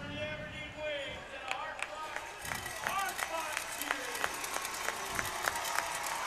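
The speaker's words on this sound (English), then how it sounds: "the Bobcat faithful applauding the Aberdeen Wings here in what was an incredible battle" Hockey crowd applauding the visiting Aberdeen Wings at a Bobcats home game after a hard-fought battle, steady arena clapping and cheering with sharp claps, stick or puck knocks and a commentator talking over it.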